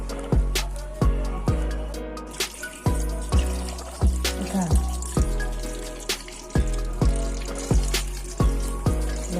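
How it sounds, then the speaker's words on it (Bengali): Cut star fruit is rinsed in fresh water, with regular close splashes and drips repeating about once a second over a continuous trickle, and no talking. "ফ্রেশ জল দিয়ে ধুয়ে নিচ্ছি।"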